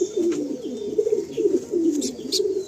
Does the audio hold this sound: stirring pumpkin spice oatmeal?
no